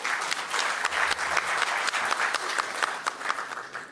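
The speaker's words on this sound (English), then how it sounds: "The authors need to be applauded." An audience at a law book launch for titles on BNS, BNSS and BSA breaks into sustained applause, a dense, even patter of many hands clapping with no voices over it.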